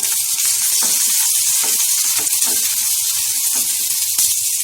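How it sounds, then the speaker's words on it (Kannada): Green chillies and onion frying in about a spoonful of hot oil, a steady close sizzling hiss that holds throughout, with a few soft stirring knocks underneath. "ಅದಕ್ಕೆ ಹಸಿಮೆಣಸಿನಕಾಯಿ ಮತ್ತು ಈರುಳ್ಳಿ ಹಾಕೊಂಡು ಜಸ್ಟ್ 1 ನಿಮಿಷದಷ್ಟು ಫ್ರೈ ಮಾಡ್ಕೊಳ್ತೀನಿ"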